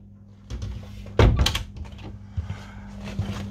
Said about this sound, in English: I'll just open the door